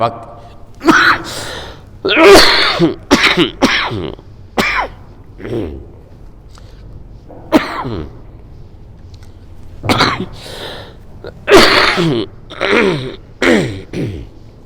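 Repeated harsh coughing in bursts, some close together and some spaced out, loud and near, with brief gasping breaths between the fits.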